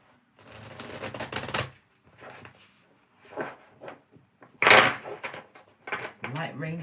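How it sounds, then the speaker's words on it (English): Several bursts of riffling and flapping cards come in quick irregular runs, with short pauses and some quiet talking in between. "Let's give the cards a quick shuffling."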